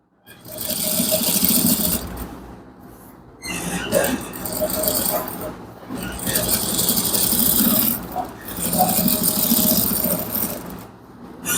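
Sewing machine running in bursts of a few seconds each, separated by brief pauses, while top stitching a shirt collar; a close, steady whirring mechanical drone with no one talking.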